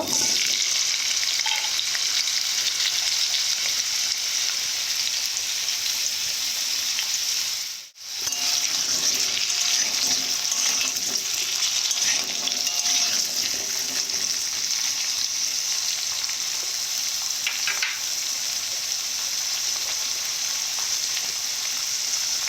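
Potatoes frying in hot oil give a loud, steady, close sizzle that holds throughout, broken only by a brief drop near the middle before the crackle resumes.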